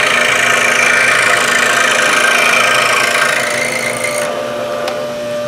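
A power saw runs steadily as its blade trims waste wood along the edge of a board beside a 1/8-inch dado, giving a loud, even whine that drops off near the end.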